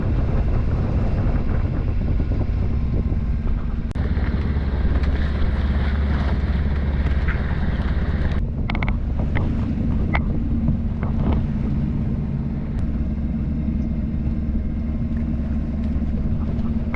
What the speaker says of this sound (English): We're sailing through a squall,